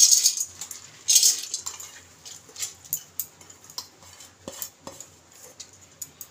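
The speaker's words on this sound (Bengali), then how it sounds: "এবার ডালগুলো প্রেসার কুকারে দিয়ে দেব।" Dry lentils being tipped into a pressure cooker, heard as a close run of light clinks, taps and rattles of grains and utensil against metal, irregular and sharp, with no talking.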